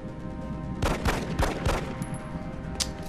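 Gunfire in the XCOM Enemy Within video game: a short burst of several rapid, loud shots in quick succession, followed by a brief sharp crack, with no talking.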